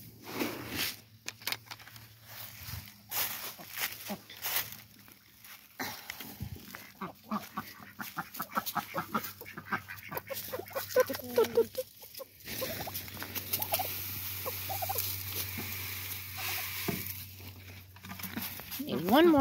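Ducks and chickens on a small farm in the woods call and peck, with soft patter, quacks and clucks close by while someone talks over them.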